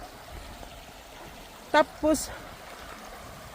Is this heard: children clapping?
no